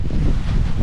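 Strong wind gusts buffeting the microphone on a misty, fog-covered hilltop on the Patla Betta trek near Bisle Ghat, a steady, close roar with no voices.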